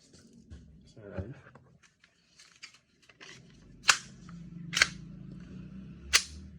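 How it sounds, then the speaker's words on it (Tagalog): A WE G17 Gen 5 green gas airsoft pistol fires three sharp, separate cracks spaced about a second apart, with quieter handling clicks and faint background murmur leading up to them. "For Sir J of Cebu City, WG17 Gen 5, firing."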